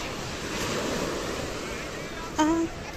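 Sea waves wash onto the shore on Mallorca in a steady, close surf rush with wind buffeting the microphone, and a brief voice cuts in near the end.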